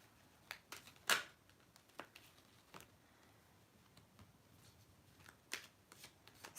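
Tarot cards are shuffled close by in soft, papery riffles and taps spread across the clip, with one sharper flurry near the start, quiet and without speech.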